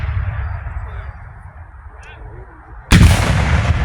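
A Civil War battle reenactment volley of rifle fire erupts suddenly and loudly after a stretch of quieter outdoor crowd ambience, the blast sustaining with rumbling echo to the end.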